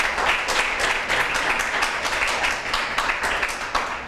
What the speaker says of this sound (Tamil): நல்லா கைத்தட்டு, நல்லா கைத்தட்டி வாங்கிக்க.